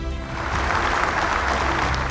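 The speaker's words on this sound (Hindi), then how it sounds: "जोरदार तालियों से स्वागत कीजिए D Bharti Mary and D Reena का।" An audience claps loudly and steadily at a National Family Bible Quiz semi-final, welcoming a quiz team from Sector 6 Bhilai, Raipur Diocese, Chhattisgarh. The applause is a dense, continuous wash throughout, with a faint voice underneath.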